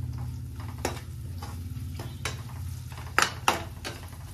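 Ground coriander, red chilli powder, salt, turmeric and kasuri methi get stirred in a hot pan, producing a low sizzle broken by repeated scraping strokes and a couple of sharp metallic clinks near the end.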